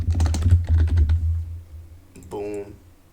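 Quick, dense clatter of keys being typed on a computer keyboard, fairly close and steady, followed by a brief tonal, voice-like sound near the end.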